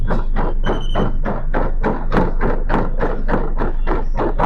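Rhythmic footfalls pounding a treadmill belt at speed setting 20, a steady run of evenly spaced thuds about four per second, loud and close with a constant motor hum underneath.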